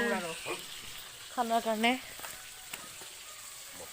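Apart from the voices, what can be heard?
fish frying in a pan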